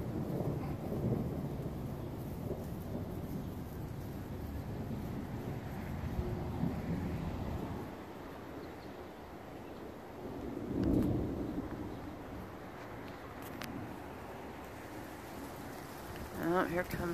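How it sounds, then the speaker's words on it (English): Wind gusting across a yard on a morning outdoors, a broad rumbling rush that swells and fades, with a voice faintly present at times. "Here comes the wind."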